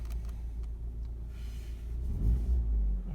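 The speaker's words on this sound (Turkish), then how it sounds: "Birazcık daha rölantide çalıştıracağım." A Fiat Egea idles after a cold start following more than 20 days unused, a low steady engine rumble at moderate distance that swells slightly near the end, with no talk.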